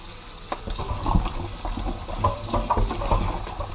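Water splashes and gurgles in a basin as raw chicken is washed in salt water, with irregular sloshing and clunks throughout.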